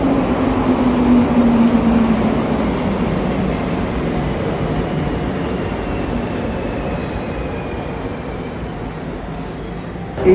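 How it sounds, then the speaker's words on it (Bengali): A Montreal metro train rolls past nearby with a loud, continuous rumble and high metallic wheel squeal. The noise eases slightly as it goes on, and no voices are heard over it. "এই মেট্রোটা থেকে নামলাম, এবার এখানে মেট্রো ধরবো এই দিকের"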